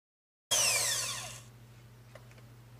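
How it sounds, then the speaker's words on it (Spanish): An electric mixer beats keto bread batter: one loud, close whirring burst of about a second that winds down, leaving a low steady hum. "Ahí vamos a batir."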